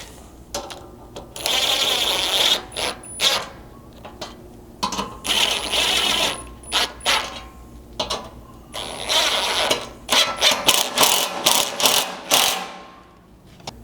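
A ratchet tightens bolts on a skid plate for a Land Cruiser 200 Series, heard up close as repeated bursts of rapid pawl clicking separated by short pauses, some quick and choppy, others longer runs.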